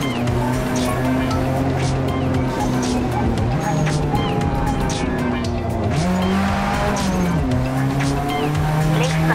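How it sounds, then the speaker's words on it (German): Tires squeal and spin in the Forza Motorsport racing game, long wavering screeches over a steady engine roar, loud and continuous, with commentary talking over it. "Oh weh, meine Reifen drehen durch."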